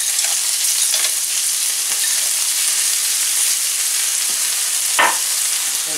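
Red peppers and peas cooking in oil in a pan for seafood paella: a loud, steady, close frying hiss with a couple of brief utensil knocks, no talk.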